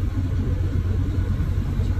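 A car engine runs steadily as the car sets off, a low continuous rumble filling the interior with no voices.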